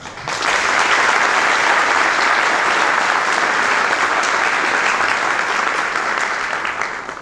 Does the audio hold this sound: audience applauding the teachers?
yes